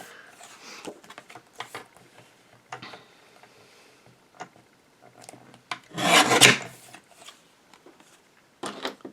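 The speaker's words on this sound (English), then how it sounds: "I'm going to trim in on each side pretty much as far as I can without cutting the image off" A paper trimmer slicing the edges off a recycled Christmas card, heard as scattered short rasping and sliding scrapes with one louder, longer cutting pass near the end, close and otherwise quiet, with no talk.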